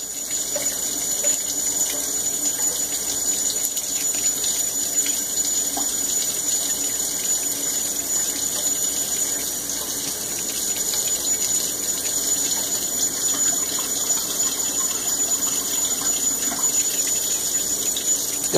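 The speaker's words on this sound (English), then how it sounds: "Run the water again." Tap water runs steadily into a sink, letting it go until it turns cold, a continuous close hiss and splash holding even throughout with no talking.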